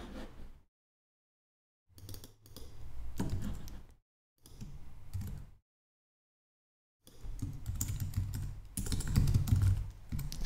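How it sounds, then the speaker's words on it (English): Bursts of fast typing on a computer keyboard while building a WordPress page, clicky keystrokes in three or four runs separated by total silence, close and fairly loud. "Just got to be able to type properly first."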